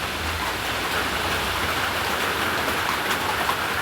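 Steady rain in Alappuzha makes an even, dense hiss that fills the whole stretch without a break, with no voices over it.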